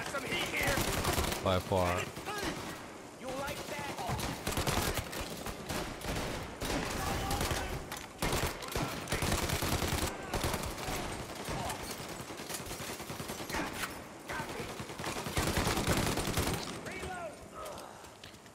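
Loud, dense gunfire from an old-fashioned gun in Mafia Definitive Edition, sustained volleys of shots packed together over the game's action, with someone talking partly over it.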